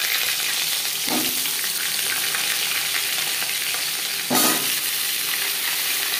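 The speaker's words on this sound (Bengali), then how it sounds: "জিরে, তেজপাতা, শুকনো লঙ্কা ভেজে নেওয়ার পর দিয়ে দেবো পেঁপে।" Papaya pieces fry in hot oil with cumin, bay leaf and dry chilli, giving a constant close sizzle broken by two stirring scrapes.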